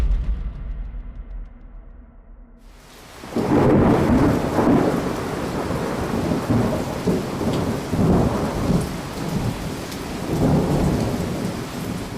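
A thunderstorm with flash flooding and lightning: after a low rumble, heavy rain suddenly pours down loudly and steadily, with deep rolling thunder swelling beneath the downpour.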